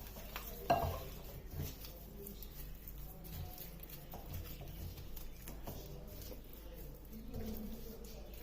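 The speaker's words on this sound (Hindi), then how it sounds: "अब इसे इस तरह से मिक्स कर लेना है" Raw mutton pieces being mixed by hand with meat tenderizer for malai boti, faint wet squelching and soft handling sounds in a quiet room, with a small knock near the start.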